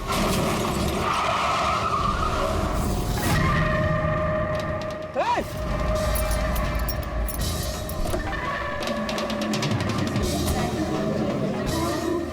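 A car skids and brakes on a road with a drawn-out tire squeal rising and falling over a rumbling engine, with a sharp swooping screech midway and voices talking over it.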